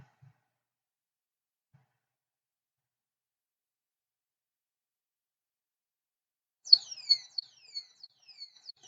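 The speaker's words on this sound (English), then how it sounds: "Yeah, that one is sound from buzzer," An Arduino-driven buzzer plays a siren horn tone, a faint, high, rapidly sweeping electronic chirp that starts only in the last couple of seconds after a long near-silence.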